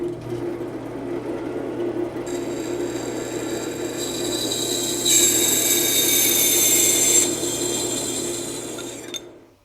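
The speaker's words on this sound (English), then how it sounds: "Now watch how readily this blade will go through the aluminum." A band saw fitted with a small fine-tooth blade cuts a piece of non-ferrous aluminum, a steady motor hum joined by a bright, rising metallic whine that holds for several seconds and then cuts off.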